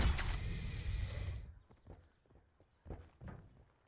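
Footsteps in a video game: after a loud burst of game noise, a few soft, irregular steps follow, fairly faint and spaced apart, with no talk over them.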